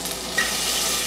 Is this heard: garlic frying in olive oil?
yes